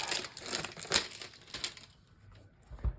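Plastic wrap and cardboard packaging on a tarot card deck crinkle and crunch as it is opened, close and fairly quiet, in irregular bursts with a final tap.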